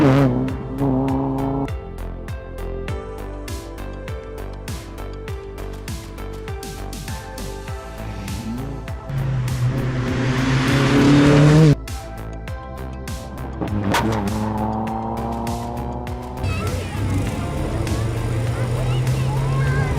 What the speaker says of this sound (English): see some cars go past